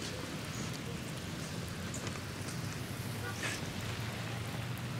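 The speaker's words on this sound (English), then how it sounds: "It's raining, dude" Steady rain pours down in a continuous dense hiss, with faint distant rumbles underneath and no clear voices over it.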